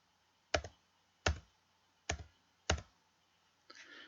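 Four sharp, separate computer keyboard key presses click out at a steady pace, close and crisp in a quiet room, followed by a softer rustle.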